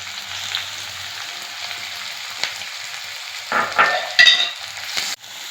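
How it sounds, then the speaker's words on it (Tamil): Onions frying in hot oil with a bay leaf and stone flower in a pan while cooking Saidapet-style vada curry, a soft steady sizzle with a few brief stirring scrapes near the end. "இப்போ வந்து ஒரு பிரிஞ்சி இலை, கல்பாசி, அதோட வெங்காயம் சேர்த்துக்கிறேன்."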